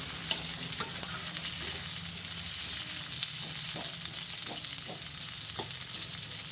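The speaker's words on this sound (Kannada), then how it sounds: "ಈ ಥರ ಫ್ರೈ ಆಗ್ತಾಯಿದೆ." Mixed vegetables for kadai veg fry in oil in a kadai, a constant sizzling hiss punctuated by scattered clicks and light scrapes of a spatula stirring, close and steady with no voices.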